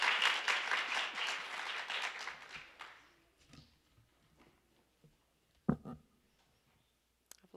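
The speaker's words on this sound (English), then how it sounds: "Now, clap." A short burst of audience clapping marks the end of a round at a division spelling bee, fading out after about three seconds into quiet room noise with a few scattered clicks and bumps.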